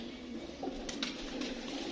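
A pigeon gives a faint, brief coo or call at a rooftop net, set against a steady low background rumble with no talking.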